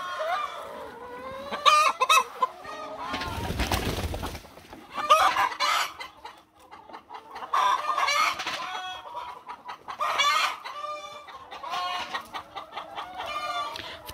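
Pastured hens cluck and squawk inside a winter greenhouse, with repeated close calls and a rooster-like crow among them, plus a brief burst of rustling noise partway through.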